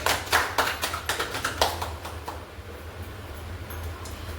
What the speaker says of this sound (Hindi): ताली वाली चीज़ सर के लिए जोरदार।